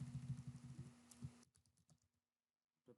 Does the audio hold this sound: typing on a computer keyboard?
yes